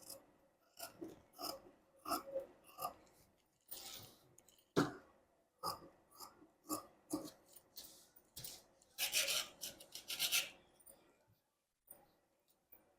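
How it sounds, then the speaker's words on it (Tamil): Scissors snip through blouse fabric in a series of short, close cutting strokes with irregular pauses, the crisp rasping bursts fairly quiet and unaccompanied by talk. "லைட்டாக கிராஸ் பண்ணி கட் பண்ணிக்கோங்க"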